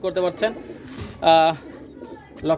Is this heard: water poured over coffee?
no